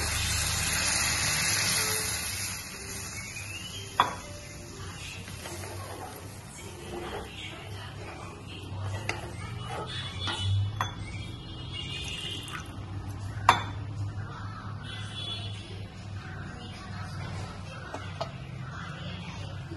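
Hot water poured into a pan of mustard masala for a pabda fish curry, a steady watery rush and gush across the whole stretch with a few sharp clinks from the pan, fairly close.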